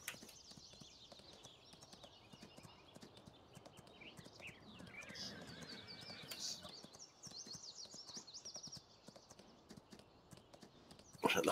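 Several horses walking in Farming Simulator 19, with a quiet, steady clip-clop of hooves under game ambience and a brief louder burst at the end.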